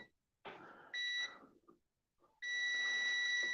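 A continuity tester buzzer beeps twice nearby while testing a fuse: first a brief tone, then a longer steady one, with small handling noises between.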